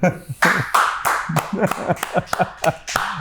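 A short burst of rhythmic clapping, about a dozen sharp claps from one or two people, close and fairly loud.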